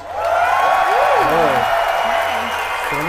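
Comedy show audience in Abu Dhabi clapping and cheering, a steady wash of applause with voices rising over it.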